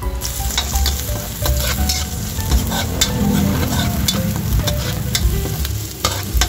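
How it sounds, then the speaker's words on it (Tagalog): Garlic and onion sizzle in hot cooking oil in a pan for pork liver chopsuey, a steady close crackling fry with frequent scraping stirs and no voices. "Maglalagay na tayo ng mantika. Ilagay na natin yung ating bawang. Isunod na rin natin guys yung ating sibuyas."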